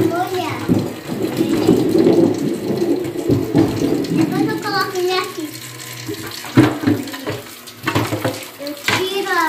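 Tap water runs and splashes in a sink while items are rinsed and washed beside an outdoor barbecue area on a country property, the flow surging and pausing irregularly under someone talking.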